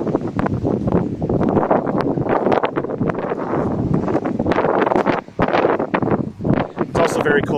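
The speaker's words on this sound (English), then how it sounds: "it's pretty windy out here" Strong wind gusts buffet the microphone beside a 2019 Lexus RX-L on a cold day, roaring and rumbling unevenly with brief lulls between blasts.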